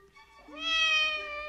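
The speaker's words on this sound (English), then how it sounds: "Yes, Cat, I know you want your breakfast" A cat meows for breakfast in a long, rising, insistent call, close and clear against quiet surroundings, with no one talking over it.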